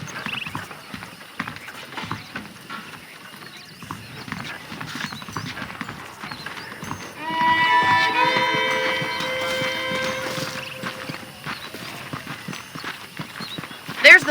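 Horse hooves clip-clop at a steady walking pace in the Western video game Red Dead Redemption, moderately close, while a musical drone swells midway and occasional louder knocks punctuate the end.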